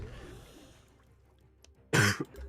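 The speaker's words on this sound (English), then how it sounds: "Sorry for coughing all over your stream." A single harsh cough bursts out near the end after a quiet stretch, close and fairly loud, with no speech around it.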